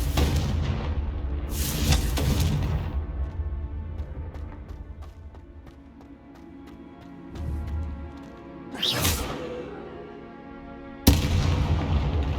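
Confringo fire spells exploding in the video game Hogwarts Legacy, several loud booming blasts with crackling impacts over a dense game background, separated by quieter rumbling stretches.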